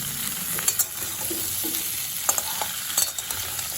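Salted vegetables stir-fried in a pan for a vegetarian curry with lentil fritters, a dense continuous sizzle with a few quick spatula scrapes and clinks, close up and steady, no speech.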